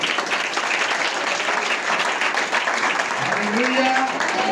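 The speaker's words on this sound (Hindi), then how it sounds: "तालियां बजा दो भैया" Congregation at a Hindi-language church service applauding, a dense, steady wash of clapping throughout with a voice rising briefly near the end.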